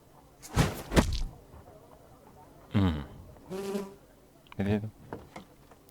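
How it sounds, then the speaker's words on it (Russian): Flies buzzing in the video game Sherlock Holmes: Crimes and Punishments, several rising and fading buzzes in irregular bursts, with a thud or knock-like sound near the start. "Фу, мухи."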